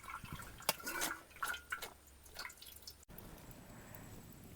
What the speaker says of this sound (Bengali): ওপর থেকে একটু ঠান্ডা জল দিয়ে দেব দিয়ে ভালো করে ধুয়ে দেব